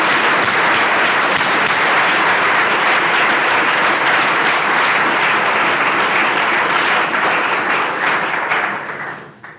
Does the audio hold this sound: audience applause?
yes